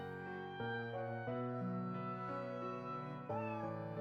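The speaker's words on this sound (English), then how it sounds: "Sorry, it's my cat. It must be supper time." Cat meowing in the video game Professor Layton vs Phoenix Wright, a few drawn-out tonal meows in succession, fairly quiet and clear with nothing else underneath.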